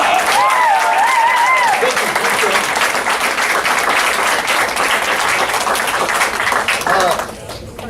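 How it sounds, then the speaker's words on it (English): A crowd applauds at the Dayton Quest Center graduation ceremony in July 2018. The dense, loud clapping runs continuously, with a whooping voice at the start, then thins at the very end. "Let's give him a round of applause."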